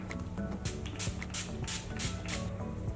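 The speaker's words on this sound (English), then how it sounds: "I just use a light spray of this to kind of prime my face and moisturize it" Quick bursts of a fine mist spray hiss out in a steady rhythm, several short puffs close by, fairly soft.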